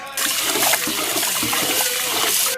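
Rice being rinsed in water for katsudon, a steady close rush and splash of running water, loud and continuous with no talking.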